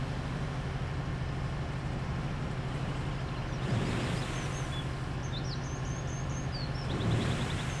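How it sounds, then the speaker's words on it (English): Birds chirping on the roof of a bus in Bus Simulator 21 on the Angel Shores map, short high twittering calls in scattered bursts over a steady engine and road rumble. "Man, those birds are loud as fuck. Is there a nest on the roof?"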